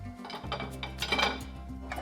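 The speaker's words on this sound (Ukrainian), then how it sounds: "Правильно завантажити посудомийну машину іноді досить складно." Dishes clink as plates, beginning with the largest, are loaded into a dishwasher rack, with light irregular ceramic knocks over a low steady hum and no voices.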